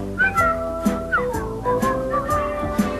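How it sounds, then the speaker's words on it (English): Whistled melody from a 1983 TV-am broadcast, carried over steady instrumental backing in a bouncy rhythm of short phrases, moderately loud and without talk. "just purse your lips and whistle, that's the thing."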